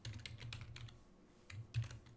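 Soft, quick keystrokes on a computer keyboard, a brief burst of tapping, a pause, then a few more clicks nearby.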